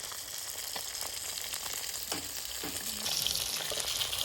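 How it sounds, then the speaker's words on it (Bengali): Fish frying in a pan gives a steady, close sizzle with occasional stirring scrapes, and no voices. "মাছ ভাজা তো শুরু হয়ে গেছে,"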